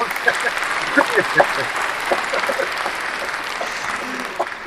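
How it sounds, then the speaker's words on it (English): Scattered applause and clapping with voices talking over it, moderately loud and continuing throughout. "I wish I was in control of the applause."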